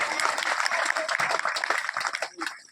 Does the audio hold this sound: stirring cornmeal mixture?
no